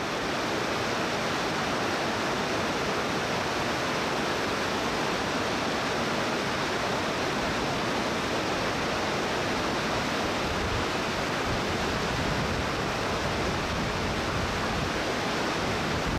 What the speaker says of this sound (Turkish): Yüksek zirvelerdeki kar sularıyla beslenen ve güç alan şelale beyaz köpükleriyle uzaktan bile muhteşem görselsin